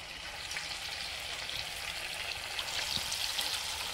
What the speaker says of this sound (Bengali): এবার আমি এখান থেকে একটা একটা করে পকোড়া তেলের মধ্যে ছেড়ে দেব।